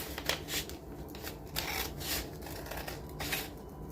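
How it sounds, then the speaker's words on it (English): Scissors cutting across the bottom of a Dollar Tree fabric placemat being made into a journal cover, with several soft, crisp snips and rustles close by and no voices. "And then we're going to cut across the bottom."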